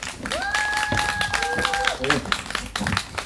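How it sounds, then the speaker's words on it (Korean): Crowd at an outdoor candlelight rally against a THAAD deployment in Seongju claps to welcome a speaker, scattered clapping mixed with a sustained tonal sound and voices. "모두 큰 박수로 맞이해 주시면 고맙겠습니다"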